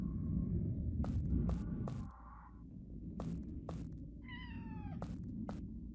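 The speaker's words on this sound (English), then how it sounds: "There's a cat in here too?" A cat meows in the video game Sonar Shock, a rising, wavering cry about four seconds in, heard over a steady low ambient hum and rumble, with several sharp clicking noises scattered before it.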